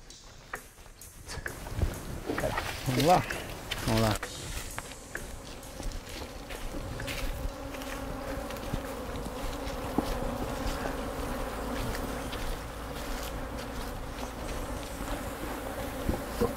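Honeybees buzzing steadily around beehives, a dense continuous drone that stays loud and close throughout, with a few brief knocks and shuffling sounds early on.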